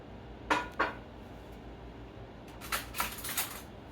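Cut apples being stirred in lemon juice in a bowl, with a few soft, quiet clinks and scrapes of a utensil against the dish in two brief bursts, separated by near silence.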